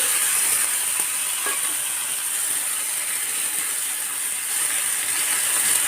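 Mutton with chilies sizzles and fries in a pan for mutton sukka, a steady close hiss of hot oil with a few faint stirring clicks and no talk.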